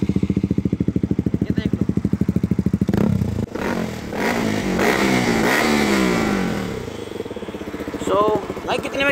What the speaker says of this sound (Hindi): इन्होंने एग्जॉस्ट चेंज कराया हुआ है और ये काफ़ी लाउड है